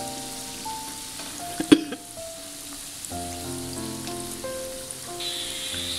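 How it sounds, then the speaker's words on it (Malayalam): Chicken cutlets fry in oil on a medium flame, a gentle crackling sizzle under faint steady tones, with one sharp clink of a utensil partway through; quiet, close and without speech. "ചെറിയ ഫ്ലെയിമിൽ മീഡിയം ഫ്ലെയിമിലിട്ടിട്ട് ഫ്രൈ ചെയ്താൽ മതി."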